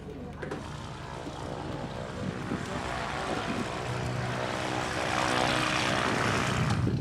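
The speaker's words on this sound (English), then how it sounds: "About to hop in the plane." A propeller airplane engine running close by in Africa, a steady droning roar that grows gradually louder and fuller toward the end, with no talk.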